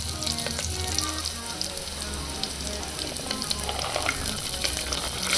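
Onions sizzle continuously in a hot tempering pan while they brown for a masala sambar, a close and even frying hiss with light stirring and no talk.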